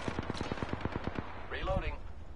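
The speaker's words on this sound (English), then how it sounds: "I'm taking fire." Rapid automatic gunfire in a PS4 shooter, a tight burst of about ten evenly spaced shots followed by a voice, fairly faint overall.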